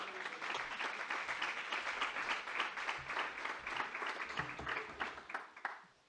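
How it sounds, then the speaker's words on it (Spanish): An audience at a city innovation conference applauds to welcome a speaker, with steady, dense clapping that goes on at an even level for several seconds before thinning out near the end. "Lo podemos recibir con un aplauso también"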